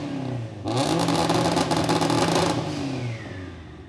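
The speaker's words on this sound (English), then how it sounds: "the tone and everything from this exhaust, beautiful, but it's also a lot quieter than the typical titanium exhaust" A Subaru STI engine revs up hard with a deep, raspy exhaust roar, holds for a couple of seconds, then settles back down.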